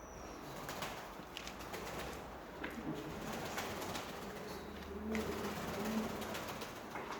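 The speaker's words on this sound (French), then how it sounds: "Il y a des oiseaux." Pigeons inside an abandoned clinic coo softly and flap their wings in a series of sharp fluttering bursts, echoing faintly in the empty rooms.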